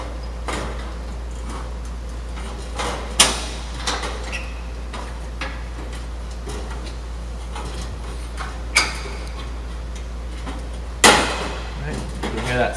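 A fluorescent tube lamp snapping into its socket in a 2-light fixture gives a few sharp, isolated plastic clicks and knocks over a steady low mains hum, close by.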